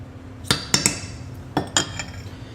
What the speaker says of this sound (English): with the smaller spoon, is just get one spoonful full and put it on the tray like this